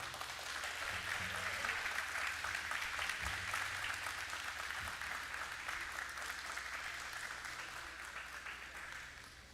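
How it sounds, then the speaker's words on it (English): Audience applause at an annual company meet and awards night fills the room, a loud, steady wash of clapping that lasts throughout and fades slightly near the end. "A huge round of applause to Mr. Ali."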